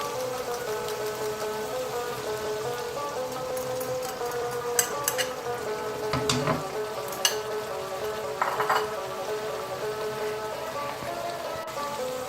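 Beaten egg and chopped green onion sizzle and fry in a hot pan for aloo anday, a steady crackling hiss with a few sharper pops and spatters, close and continuous.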